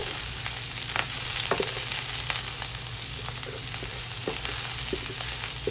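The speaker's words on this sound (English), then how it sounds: "So now I've got my oil in the pan. I'm going in with my green onion." Green onion sizzles steadily in hot oil in a pan, a dense crackling hiss with occasional pops and stirring scrapes, close by and without talk.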